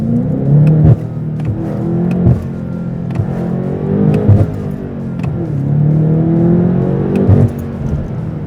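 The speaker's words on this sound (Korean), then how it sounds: "스포츠입니다. 엔진 브레이크 잡히는 거 보세요." In Sport mode, a BMW M8 Competition coupe's engine revs up and falls off under engine braking in repeated surges, with pitch sweeping down between sharp throttle blips, loud and close from inside the car.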